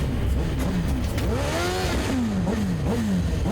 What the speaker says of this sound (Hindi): ये बाइक मेरा पीछे क्यों नहीं छोड़ रही है?